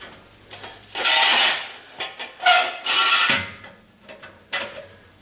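Metal clunks and scraping clatter as a muffler is worked into place and straightened on a Nissan Frontier exhaust, several loud bursts of knocking and rattling separated by brief quieter gaps.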